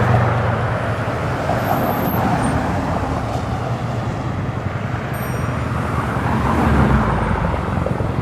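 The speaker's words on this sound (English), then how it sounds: "It's noisy over here. It's the West Side Highway." Traffic on the West Side Highway in New York, a continuous loud roar of passing vehicles with faint high whines drifting over it, no talking.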